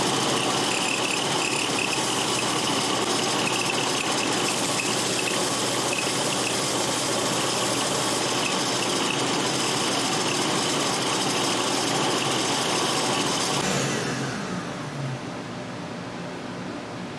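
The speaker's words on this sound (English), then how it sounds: "we're going to touch up the miters using a desktop belt sander" A desktop belt sander running on the mitered corners of a wooden box, a loud steady whirring grind held for a long stretch before easing and winding down.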